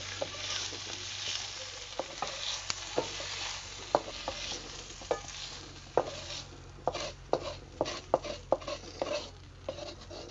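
Raw tomatoes roasting on a griddle over a wood stove, a faint steady sizzle under scattered sharp taps and scrapes of a utensil on the pan, growing more frequent toward the end.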